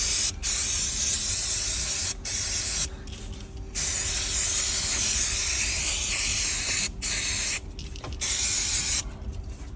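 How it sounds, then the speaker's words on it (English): An aerosol spray can hisses loudly and up close as plastic car parts are coated, in long continuous bursts broken by several brief pauses. "He's sprayed his plastic."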